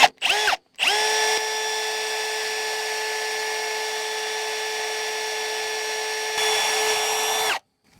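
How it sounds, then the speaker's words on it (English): A cordless power drill bores a hole in one long steady whine, with a couple of brief starts just before and a slight rise in pitch and loudness near the end; no voices over it. "All right, let's see how this drills."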